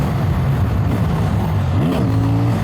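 A CFMOTO 800NK parallel-twin motorcycle engine pulls steadily in fourth gear, its droning note rising in pitch near the end, loud and close with no talking.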